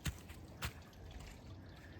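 Two distinct water drips land about half a second apart, soft and close, over a quiet background hiss.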